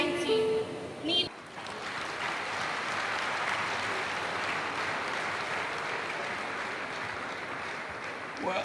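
An audience claps at a gathering; after a brief voice at the start, a steady wash of many hands clapping continues at moderate level, slightly distant and even throughout.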